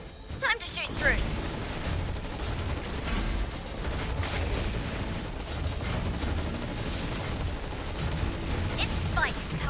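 Rapid continuous gunfire and explosions in the real-time strategy game Stormgate, dense and steady throughout, with short unit voice lines breaking in near the start and end.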